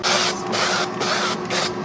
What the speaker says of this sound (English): Spray with oil.